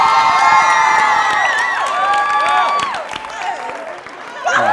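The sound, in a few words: audience applause and cheering for a speaker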